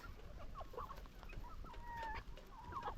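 Chickens on a poultry farm clucking and calling in short, scattered bursts over a low steady background hum, several birds close by with no talk.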